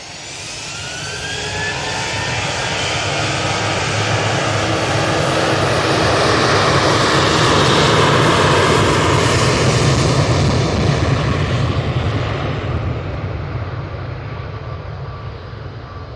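Embraer jet flying near Manchester Airport over Stockport swells from a distant hiss into a loud, broad engine roar that peaks mid-pass and then slowly fades, with no talking over it.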